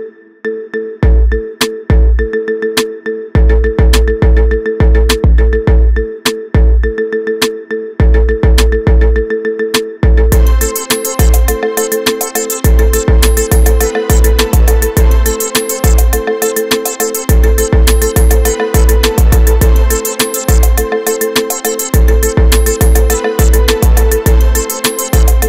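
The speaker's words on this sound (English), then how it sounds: "Get this cool ringtone for your phone now." Marimba remix ringtone: bright mallet notes over a steady punchy bass beat, with the arrangement filling out and getting busier about halfway through, loud and continuous with no talking.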